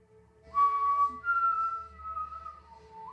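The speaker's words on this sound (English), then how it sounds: "What's the whistle that they do here?" A Mockingjay whistle from The Hunger Games rings out as a clear, sustained tonal whistle in a rising phrase. It plays over a low rumbling film background.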